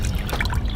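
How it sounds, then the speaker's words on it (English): Snowmelt running off a roof in March, a light continuous trickle of water heard close by and alone for a brief moment. "This water is just snow melting off the roof."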